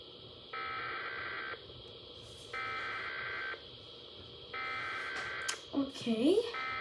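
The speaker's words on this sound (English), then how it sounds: "I heard there's like another beep tone or something on here, so we'll try that" A RadioShack 12-261 weather radio sounds its alert tone as three long, evenly spaced beeps, each about a second, loud and close, followed by a brief burst of speech.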